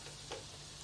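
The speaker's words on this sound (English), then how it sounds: "So the chicken's been frying in the masala for some time now," Chicken frying in masala for a ghee roast: a faint, steady sizzle with a soft stir or tap partway through, quiet and close with a low hum underneath and no talking.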